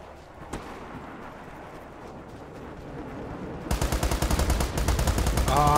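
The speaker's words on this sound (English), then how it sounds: "Friendly airstrike incoming." A friendly airstrike in the shooter game World War 3: after a stretch of distant battle rumble, a rapid, loud barrage of booming impacts and heavy fire erupts and keeps pounding steadily to the end.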